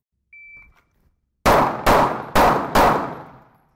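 A shooting drill: a short electronic timer beep, then four loud, sharp gunshots fired in quick, evenly spaced succession.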